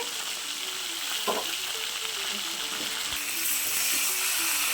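Vegetables with salt and turmeric stirred in a pan, giving a continuous close frying sizzle with scattered scraping and stirring clatter and one sharp tap partway through.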